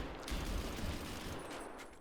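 A dense burst of gunfire in Escape from Tarkov, fairly faint and muffled, with rapid shots running together over about two seconds and no voices over it.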